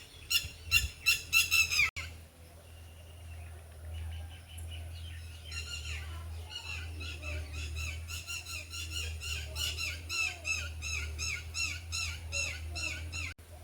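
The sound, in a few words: red-wattled lapwing calling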